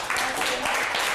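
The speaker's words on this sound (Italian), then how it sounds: "Ma fatevi un applauso allora." Short burst of applause from a small studio audience on an Italian local football talk show, a dense steady patter of clapping held at one level for about a second.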